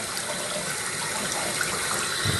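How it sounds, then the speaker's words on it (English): Water pours steadily from a newly installed bathroom vanity faucet with the aerator removed, flushing debris out of the line; a loud, continuous close-up rush with no voices. "whatever that was in the faucet, want to flush that out"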